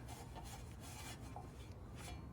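A rag wipes a car's rear brake backing plate with brake cleaner during a wheel bearing replacement on a Seat Ibiza / VW Polo, giving faint, quick rubbing and scrubbing strokes close by with no talk.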